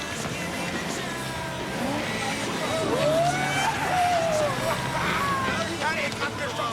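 A car speeds off with squealing, skidding tires, rising tire screech over a steady engine roar and background commotion of voices in a frantic getaway scene.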